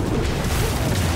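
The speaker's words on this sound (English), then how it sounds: "I thought I was gonna be hit by the explosion." A booming explosion in the video game Diablo IV, a dense, rumbling low-heavy blast that fills the whole short moment at steady loudness, with no talking over it.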